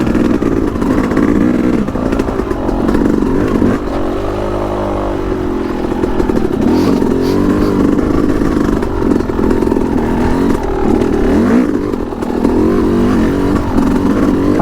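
A Yamaha YZ250X two-stroke dirt bike engine works along a rocky trail, a steady close buzzing drone whose revs rise and dip unevenly. Clattering rides over it, with no talk.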